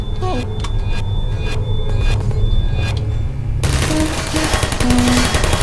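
Automated sentry turret from the video game Portal firing its machine gun in a sustained, loud burst of rapid shots, growing denser and harsher partway through, with electronic game tones over it.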